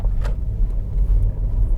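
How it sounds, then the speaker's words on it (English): An automatic car's engine holds high revs without shifting while accelerating out of a corner, heard from inside as a loud, steady, low droning rumble. "I'm really getting annoyed by the fact that the car is over revving for no reason."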